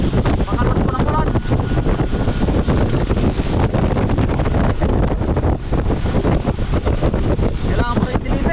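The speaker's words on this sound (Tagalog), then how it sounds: "Pagkalakas po ng ulan." Heavy rain and gusting wind during an eggplant harvest, a dense, steady roar with buffeting wind across the whole stretch and no break.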